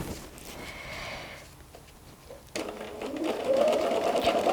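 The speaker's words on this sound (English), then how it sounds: "I'll turn the fabric around so we stitch backwards again." A sewing machine runs steadily through free-motion quilting on fabric held in a hoop, its whirring stitching dipping briefly mid-clip before resuming louder and close up, with no talking.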